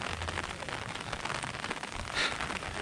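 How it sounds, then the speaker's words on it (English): Rain falling at Sacsayhuamán, an Incan ruin above Cusco, Peru, a steady close hiss of drops pattering on surfaces, continuous and moderately loud with no talk. "It's currently raining."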